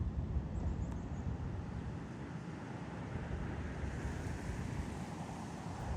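A continuous roar of sea surf on a cold morning mixed with wind buffeting the microphone, steady and fairly loud throughout.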